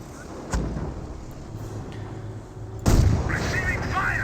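Tank cannon shells strike a Sherman tank in the Company of Heroes war game, giving two heavy booming impacts about two seconds apart, the second louder, over a low battlefield rumble with faint background sounds.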